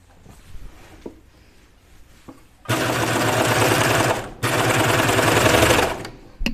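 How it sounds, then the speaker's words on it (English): A serger sewing machine starts up after a quiet stretch and whirs loudly and steadily, with a brief pause before running again. "There's my serger."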